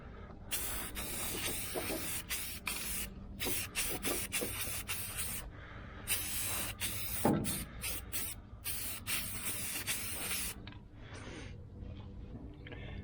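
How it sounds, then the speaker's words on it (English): Repeated bursts of hissing spray paint under the hood of a 1976 El Camino, each lasting a second or two with brief gaps, close and steady, no voices. "let me spray it all down in there real good"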